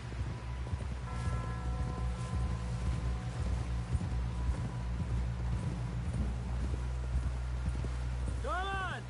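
A horse's hooves clop steadily at a walking pace in Red Dead Redemption 2, close and continuous under ambient game sound, with voices talking over it.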